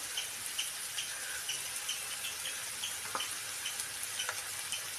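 Clam meat fries in a pan as it is stirred, a soft, steady sizzle with light spatula taps and scrapes recurring every second or so, fairly quiet and without talk.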